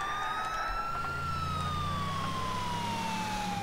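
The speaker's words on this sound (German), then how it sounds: "Können wir auch ein bisschen Sirene anmachen." A police car siren from the GTA IV video game wails steadily in a slow, falling sweep over a constant engine and traffic rumble, with no talking.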